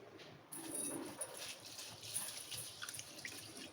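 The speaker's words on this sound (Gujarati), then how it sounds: "આ રીતે પાણીથી વોશ કરી લેશું" Dal and rice being washed in water for dal fry, soft splashing and trickling close by with a few drips, fairly quiet, no talk.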